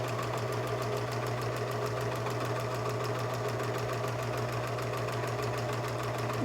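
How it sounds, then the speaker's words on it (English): A serger stitches and trims a fabric seam while making paperless towels, giving a steady rapid mechanical whir at moderate volume, continuous throughout without pauses. "the serger will just cut off anything that isn't straight, giving you a nice straight seam"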